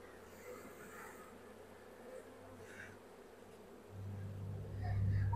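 Honey bees hum softly around hive frames during a swarm-control inspection, a steady, faint buzzing that swells louder toward the end.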